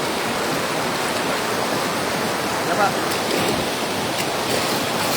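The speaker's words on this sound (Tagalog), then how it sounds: "Tubig." Flowing water at a bathing spot, a broad steady rush of moderate loudness, with faint voices briefly in the background.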